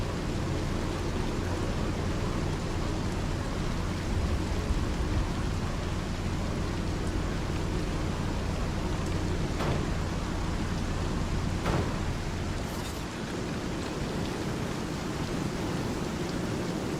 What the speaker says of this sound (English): oh boy, it is windy, rainy.